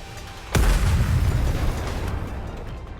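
A loud explosion of missiles in Nikke: Goddess of Victory hits with a sudden deep boom, then a rumbling roar that slowly fades, heard alone without speech.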